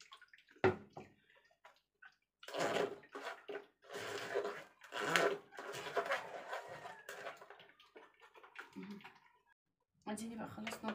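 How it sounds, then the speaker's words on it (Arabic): Liquid poured through a strainer comes as intermittent bursts of splashing and trickling, separated by quiet gaps, with a voice talking at times between them. "بصوا هنصفيه بقى كده كويس"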